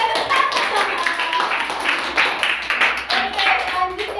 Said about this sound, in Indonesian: Dan tepuk tangan.